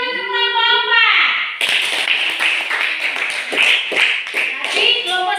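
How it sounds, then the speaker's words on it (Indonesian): After a sustained vocal tone, children in a classroom break into clapping for group 4, a dense, busy patter of hands that carries on to the end with young voices mixed in. "Tepuk tangan dulu untuk kelompok 4."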